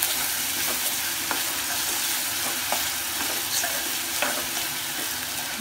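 A cup of grated coconut dry-roasts in a pan over a medium gas flame, giving a steady soft sizzle and crackle with light scraping stirs at irregular intervals, heard alone.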